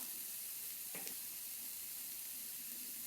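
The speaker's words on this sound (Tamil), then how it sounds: "இந்த வெங்காயம் வந்துட்டு நல்லா கோல்டன் ப்ரௌன் கலர் அளவுக்கு வதங்கி வரணுங்க" Onions sautéing in a pan for a broken-egg curry, a steady close sizzling hiss that runs throughout with a faint stir partway through, and no speech.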